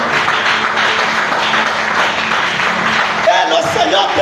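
A church congregation applauding and cheering for the Lord, a dense, steady burst of clapping and voices with no break across the few seconds.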